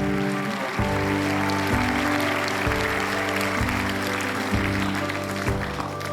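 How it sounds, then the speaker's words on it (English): An audience at an engineering school event claps for a senior about to speak, continuous applause over a repeating low musical tone pattern. "a big round of applause"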